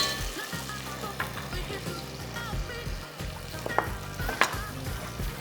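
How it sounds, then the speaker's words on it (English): Ghee roast masala for chicken wings sizzles and fries in a pan while being stirred, with steady close crackle and scraping mixes, no talking. "Next, ghee roast masala. Give this a nice mix."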